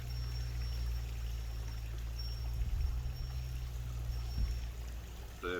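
Brine pours into a jar of pickled red onions, a soft continuous liquid stream over a low steady hum with a few faint knocks, quiet and without talk.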